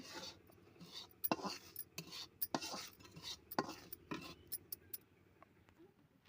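A spoon scrapes and taps in a pan while semolina roasts on a low flame, giving irregular clinks and rasping strokes, quiet and close, with faint background noise.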